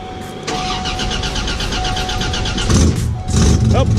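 A Buick Grand National engine with an exhaust leak cranks and catches, then runs loud and close with a rough, steady rumble that swells near the end.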